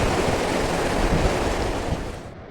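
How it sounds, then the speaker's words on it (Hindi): Cold wind gusts on the bank of the Ganges at Gangori in Uttarkashi, a loud, steady broadband rush buffeting the microphone that eases slightly toward the end, with no talking. "ठंडी हवा चल रही है बिल्कुल"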